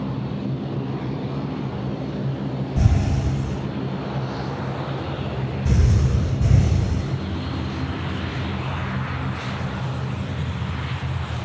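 An airliner departing Sydney Airport at night for Guangzhou, a distant steady engine roar with a few brief louder bursts rising and fading over the rumble.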